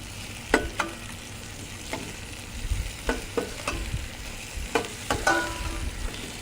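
Floured chicken pieces sear in a hot pan for Chicken Marengo, with a steady sizzle broken by sharp scrapes and clanks of stirring at irregular intervals, close and alone without talk.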